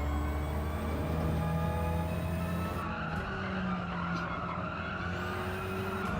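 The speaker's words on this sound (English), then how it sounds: "Tyres are squealing too." Tyres squeal steadily through a Gran Turismo 7 Gr.4 race at the Nürburgring, a continuous high skid over loud, sustained racing engine drone with no pause.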